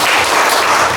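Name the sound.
audience applause welcoming a lecturer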